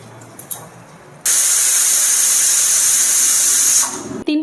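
A pressure cooker boiling carrots lets out a loud, sustained steam whistle that bursts on abruptly, holds steady for a few seconds, then fades, with quieter kitchen clatter before and after.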